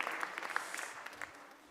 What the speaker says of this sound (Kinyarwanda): Amashyi menshi kwa Yesu.